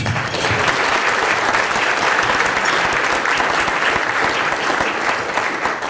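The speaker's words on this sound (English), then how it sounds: "Let's give our guests a round of applause." Sustained applause from an audience welcoming guests at a talk on how a song became a brand, a loud, dense and steady clatter of many hands throughout.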